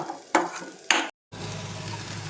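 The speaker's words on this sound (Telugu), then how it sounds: "కాసేపు స్టవ్ ఇలా మొత్తం మూత పెట్టి కాసేపు వేయించుకుందాం" Vegetables for a traditional South Indian bottle gourd curry frying in a covered pan on the stove, a steady close sizzle broken by two loud stirring scrapes and a brief gap, with no talk.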